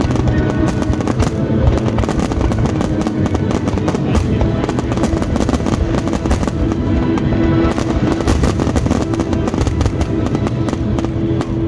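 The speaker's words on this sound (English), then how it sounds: "this tremendous fireworks show. Just the sheer volume of fireworks and explosions" A fireworks show at the Oshkosh AirVenture air show, with loud, dense, continuous bursts, booms and crackling explosions overlapping without pause throughout.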